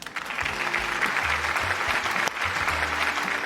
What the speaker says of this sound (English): I got to clap because the way this fight ended was so perfect with your prediction.